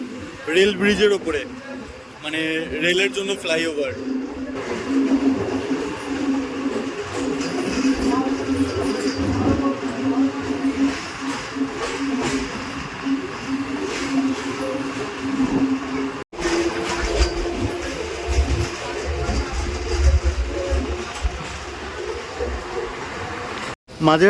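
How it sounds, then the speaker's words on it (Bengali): A Barasat local train pulls out of Majerhat on the Kolkata Circular Railway, with a steady rumble and a rising motor whine rolling along beneath someone talking close by. "ছেড়ে দিল আমাদের ট্রেন"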